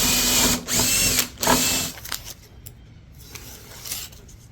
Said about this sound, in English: we know where to drill